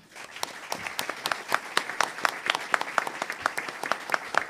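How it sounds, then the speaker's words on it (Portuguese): Audience at a formal solemn session gives applause for a group of girls from Cidade de Deus, a moderate, sparse patter of distinct claps rising and continuing steadily without voices. "Salva de palmas para elas também."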